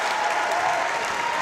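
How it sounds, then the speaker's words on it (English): Basketball fans applaud steadily through a timeout at a Minnesota state high school boys class AA third-place game, a dense, even wash of clapping from a large arena crowd with no clear voices on top. "The Yellow Jacket fans applauding though, as their team has led most of the first half."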